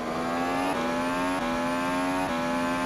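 F1 car in rFactor 2 braking downhill during Austrian Grand Prix testing: a steady, loud high-pitched engine whine drops in pitch in repeated downshift steps, each gear change clearly marked.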